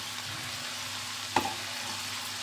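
Spice paste goes into browned chicken frying in a pan for a Keralan chicken curry: a steady close sizzle with one sharp knock partway through.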